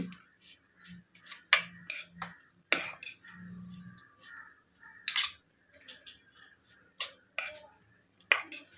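A spoon clinks and scrapes against a bowl while salad is tossed with ground spices and black pepper, giving repeated sharp metallic taps at an uneven pace, close and fairly loud, with quiet gaps between strokes.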